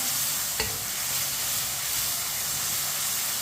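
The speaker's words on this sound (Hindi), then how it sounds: "टमाटर और सब्ज मिर्च को मैंने मिक्स कर लिया। इसे 3 मिनट के लिए पका लेंगे टमाटर को।" Tomatoes and green chilies cook in a pan with a steady, close sizzle and hiss, broken once early by a brief scrape of stirring; no one speaks.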